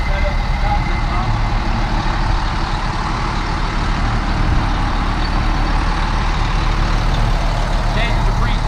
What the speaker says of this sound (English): our second concrete truck is set up with the concrete pump.